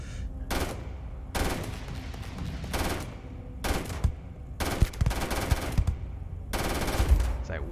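Bursts of rapid automatic gunfire from the video game Starfield come in repeated short volleys separated by brief pauses, loud and close.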